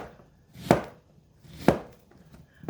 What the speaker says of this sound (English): just going to cut it in fourths. And then just some nice slices.